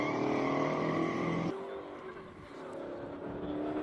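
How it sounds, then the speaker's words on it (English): A 427 AC Cobra races up a Cape Town hill climb, its V8 blaring loudly and harmonically before the note cuts off abruptly and drops to a lower, fading rumble, with speech likely over it. "Another AC Cobra coming up"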